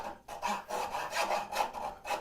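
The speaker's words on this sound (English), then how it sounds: "A file or a float is a two-hand tool." A hand file or float rasps back and forth against a wooden bridle joint, giving steady repeated scraping strokes at close range, each push about half a second long, with no voices.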